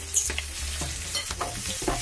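Mapo tofu stir-fries in a wok with green onion just added, a dense close sizzle punctuated by quick scraping strokes and clinks of the spatula over about two seconds.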